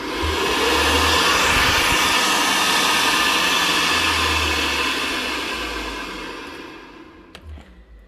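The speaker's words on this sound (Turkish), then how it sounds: "ferroli kazan fanı testi" A Ferroli boiler fan spins up on a test bench, a loud steady whirring blower hum with a low rumble that holds for most of the run, then fades and sputters out near the end.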